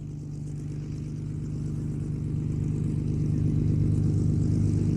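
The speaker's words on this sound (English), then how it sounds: "aircraft noises back, though" A droning propeller aircraft engine at an airfield flying day builds steadily louder over several seconds, a low throbbing hum close by with no talking.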